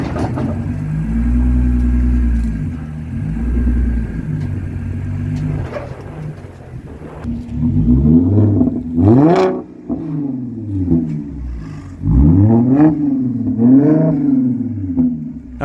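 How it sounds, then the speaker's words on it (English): A supercharged Audi crawls through a parking lot stuck in a low gear with a transmission fault, the engine droning and revving up and down repeatedly, loud and close, with no upshift. "It's definitely holding a low gear, and it's not shifting up that I can feel"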